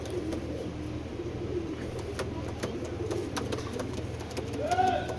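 Imported racing pigeons coo in a loft, a steady low murmur of calls with faint background noise and a clearer call near the end.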